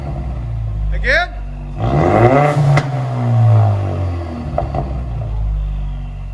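A straight-piped Ford Mustang EcoBoost four-cylinder turbo is revved hard, its exhaust climbing into a loud raspy roar and easing back down, heard up close, with a voice exclaiming over it.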